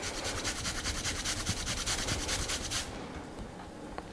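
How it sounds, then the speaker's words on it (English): Fresh ginger grated on a fine grater over shiitake, green onion and celery: quick rhythmic rasping strokes, close and clear, continuing steadily for a few seconds before stopping. "with a nice fine grater, grate a substantial amount of ginger into your pile of shiitake and green onion and celery"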